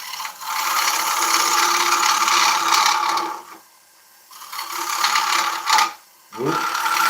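An ash blank, affected by dieback, spins on a wood lathe at 660 rpm while the tool cuts it, a loud close scraping, rattling rasp that stops twice, briefly going quiet between cuts.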